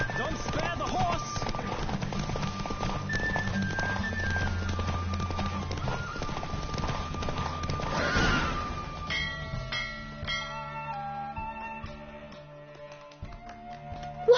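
A horse gallops in a race in the video game The Witcher, steady hoofbeats under music and voices that fade after about eight seconds as the music shifts to sparse notes.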